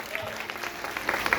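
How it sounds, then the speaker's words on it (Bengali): A brief burst of audience clapping at a singing reality show grand finale, a short patter of many hands with a voice mixed in. "একটা বড় হাততালি ওর জন্য।"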